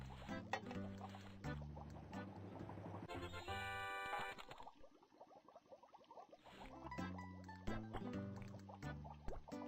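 Liquid pours in the cooking video game Papa's Pastaria, a bubbly gurgling stream in the middle stretch set amid looping, steady game music with bright synth notes, faint overall and without speech.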